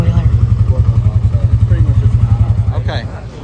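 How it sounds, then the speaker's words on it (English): A Can-Am Outlander four-wheeler idles close by with a loud, rapid, throbbing putter that eases slightly near the end, while people talk over it. "cranked up the four-wheeler"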